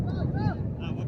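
Wind buffets the camera microphone outdoors at a cricket match, producing a steady low rumble across the whole moment, with faint distant voices in the background.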